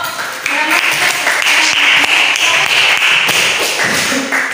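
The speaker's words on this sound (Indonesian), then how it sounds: "Sebelum tampil, kita berikan tepuk tangan pada kelompok" A classroom of students claps for a group before it performs, a close, dense patter of hand claps that runs steadily through the whole stretch, with some scattered voices mixed in.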